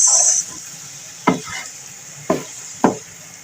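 Capsicum, onion and tomato being stir-fried in a pan for chicken jalfrezi, with a soft sizzle and three distinct scraping stirs of the spatula, close and fairly loud.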